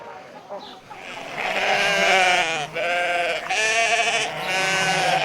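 Plump sheep in a farm pen bleat loudly and close in long, quavering cries, several overlapping calls with brief gaps between them.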